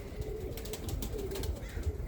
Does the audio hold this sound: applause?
no